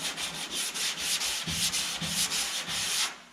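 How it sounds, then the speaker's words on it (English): A hand block rubs back and forth across primer on a car body panel, with steady rhythmic sanding strokes about three per second, close and moderately quiet. "we'll just start kind of blocking that primer off until we see where it was"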